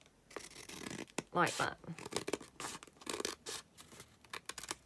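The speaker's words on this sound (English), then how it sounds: "I'm going to take another envelope and just cut another one" Scissors snip through a paper envelope to make a pocket, with several quick close cuts and paper rustles in uneven bursts under a person talking.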